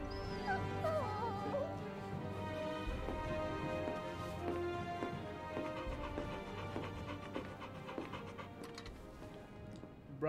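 A dog whimpers and yips in Final Fantasy XVI, its cries rising in short squeaky bursts over a steady bed of orchestral music and low ambience.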